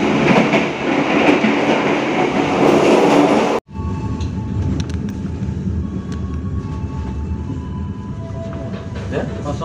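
KA Mataram passenger train running on rails at night, a loud steady rumble and rail roar from onboard that drops abruptly for a moment, then resumes with faint rhythmic clicks and squeals.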